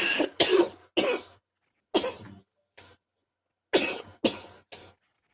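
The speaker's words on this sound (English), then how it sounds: "I'm coughing all over the place" A man coughs in repeated harsh bursts, some in quick pairs, close to the microphone with silence between them and no talking.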